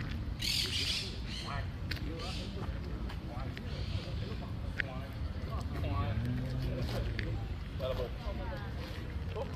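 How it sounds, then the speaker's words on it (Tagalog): Birds chirping and squawking in short scattered calls among trees at the National Garden, moderately distant, under steady outdoor background noise and a person talking. "you can hear the sound of the birds chirping"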